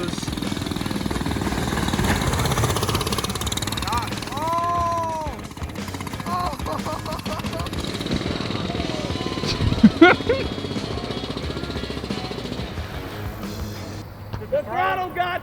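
Small go-kart engine built into a casket, fitted with 20-inch off-road tires, runs loud and steady with its throttle stuck open, droning continuously through mud as a person talks over it.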